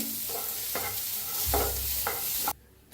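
Green chilli and garlic for a stuffed aubergine filling are stirred in a hot pan, with about four rhythmic scraping strokes over a soft sizzle before the sound cuts off abruptly.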